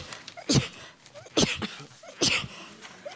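Three sharp sneezes spaced about a second apart, close and fairly loud, each a burst of breathy noise, with a few quiet voice sounds between them.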